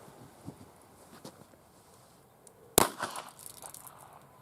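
A single sharp revolver shot cracks out fairly close, fired from a kneeling position, with some rustling and faint movement before it and a short tail after.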